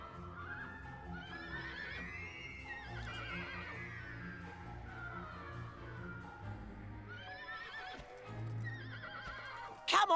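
A horse in the Dragon Quest 8 video game whinnies repeatedly over steady clip-clopping hooves, with game music or effects underneath and a sharp burst at the very end.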